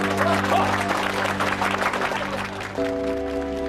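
A small group applauding on cue, brisk clapping over a sustained musical drone, with voices mixed in.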